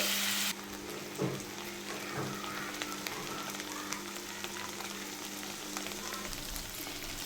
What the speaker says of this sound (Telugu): ఇదే కడాయిలో పన్నీర్ పీసెస్ వేసుకోండి